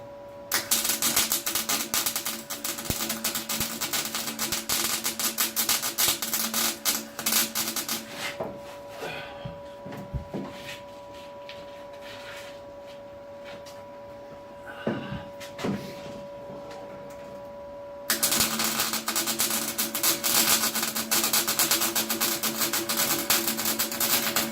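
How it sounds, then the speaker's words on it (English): Thick steel is welded during a Ford Cortina Mk5 body restoration, giving a loud continuous buzzing, crackling arc with a steady hum that stops midway, brief clanks and handling noises in the gap, then resumes strongly. "It's a thick piece of steel, but it should still weld it"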